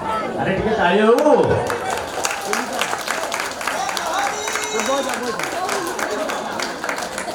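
Audience applause at a Dhuliswar stage drama performance, steady dense clapping mixed with crowd chatter and an amplified voice speaking over it near the start, continuing evenly throughout.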